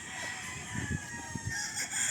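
A rooster crowing outdoors, loud drawn-out calls with clucking pulses beneath and a steady hum of insects or distant noise around it.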